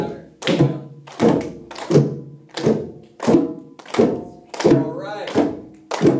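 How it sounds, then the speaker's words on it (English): Tennis balls bounce off a wall in a school class, giving about eight dull, evenly spaced thunks in a steady rhythm, close and fairly loud. Children's voices are faintly mixed in. "Bounce right out, bounce right out. Don't let the tennis ball stick to the wall."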